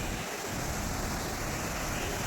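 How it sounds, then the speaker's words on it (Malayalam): Water rushes hard at a powerful waterfall at a tourist spot, heard as a dense, steady roar mixed with wind buffeting the microphone, loud and unbroken. "ഭയങ്കര പവർഫുള്ളായിട്ടാണ് വെള്ളം ഒഴുകി വരുന്നത്."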